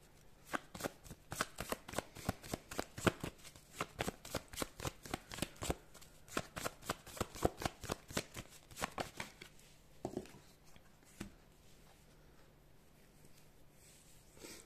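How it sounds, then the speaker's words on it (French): A deck of Tarot de Marseille cards gets shuffled close up in a quick run of crisp riffling flicks, which thin out to a few soft taps near the end. "On va tirer 2-3 cartes de tarot de Marseille."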